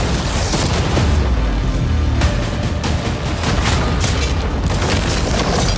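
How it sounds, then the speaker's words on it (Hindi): Cannons firing at a new yacht produce loud, booming blasts and impacts layered over a dense roar of noise, continuous and close, with no speech. "अब हम तुम्हारी नई यॉट पर कैनन्स को शूट करने वाले हैं।"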